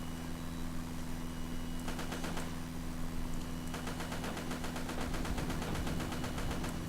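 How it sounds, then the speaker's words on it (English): Rapid bursts of anti-aircraft gunfire rattle in a flight combat video game, with rapid repeated shots over a steady engine drone, coming in two clusters, the second longer and sustained. "I've gotten blown up by anti-aircraft, and I'm on fire"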